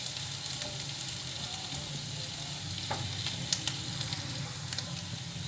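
Garlic frying in a pan gives a steady, close crackling sizzle with small pops and the scrape of stirring throughout, and no one speaks.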